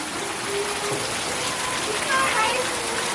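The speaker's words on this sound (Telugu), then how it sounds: "చూస్తున్నారా గైస్ వర్షం" Rain falls steadily in an Indian village, a broad continuous hiss of drops that starts within half an hour of full sunshine, holding at an even moderate level throughout.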